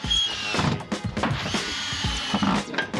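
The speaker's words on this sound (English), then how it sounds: "We'll just get these screws in" A power drill driving screws into wood while a wooden terrace deck is being fixed, loud and close, with repeated revving whirs and ratcheting bursts under busy worksite noise.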